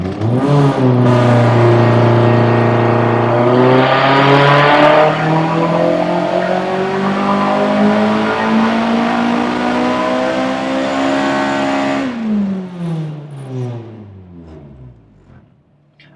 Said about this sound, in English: I'm going to go in and do my full throttle pull now that I've added 2 degrees timing